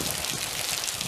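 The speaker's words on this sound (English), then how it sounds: "I like this kind of rain. A light, soothing, plant-loving rain" Light rain falls steadily on a no-weed vegetable garden, a soft, even hiss of drops on leaves and soil with no talk.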